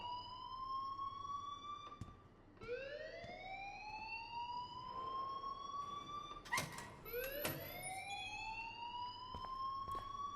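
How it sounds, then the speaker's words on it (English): An electronic fire alarm in the game Life Is Strange wails in repeated rising sweeps, about every two seconds, mingled with sharp clicks and thuds, fairly faint but steady throughout. "please turn off that alarm since that's your job"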